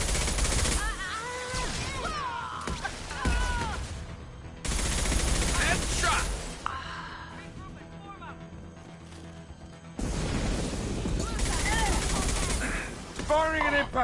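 High-impact shots fired in the Mass Effect 2 game: long, loud stretches of rapid gunfire come in three heavy bursts, with voices calling out between them.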